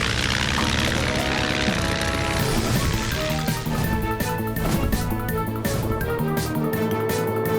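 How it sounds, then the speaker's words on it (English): A cartoon airplane flies with a steady, loud propeller drone under a busy animated score with music and effects, and no one speaks. "Morphle, morph into an airplane so we can beat the heat"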